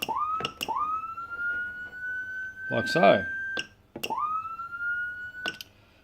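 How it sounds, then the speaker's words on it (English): A Whelen 295SSA1 electronic vehicle siren sweeps up into a steady wail, repeated a few times, with brief clicks between cycles and a short spoken phrase in the middle. "Now the different siren noises"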